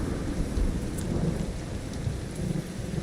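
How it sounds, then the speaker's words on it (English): Steady rain pours in a video game, The Division 2, with low rolling thunder rumbling underneath, continuous and fairly loud with no voices. "And it's raining."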